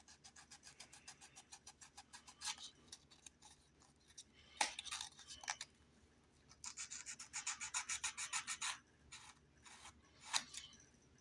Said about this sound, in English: So you don't want to sand too hard and remove it.